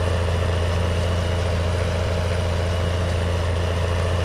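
A tractor engine idles at a steady low drone in Farming Simulator 19, a loud constant hum with no change in pace and no talking.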